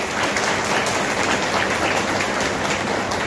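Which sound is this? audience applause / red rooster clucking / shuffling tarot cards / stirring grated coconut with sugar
audience applause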